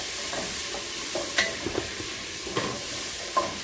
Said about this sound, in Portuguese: É o tomate, o pimentão, cebola e a pimentinha de cheiro. E vou tá dando uma refogada.